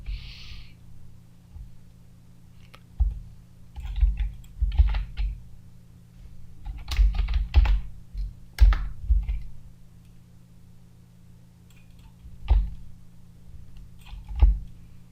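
Computer keyboard typing while a sticker design is laid out, heard as scattered clusters of clicks and taps with pauses between bursts, close and fairly crisp over a steady low electrical hum.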